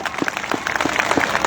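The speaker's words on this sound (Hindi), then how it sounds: "सभी लोग एक बार पूरी ताकत के साथ में अकबरपुर रनिया विधानसभा की ओर से जोरदार तालियों से स्वागत करेंगे" Applause from a crowd at a political rally for the Aam Aadmi Party in the Akbarpur Raniya assembly constituency, with steady clapping and a few sharp louder claps standing out over a continuous wash of hands.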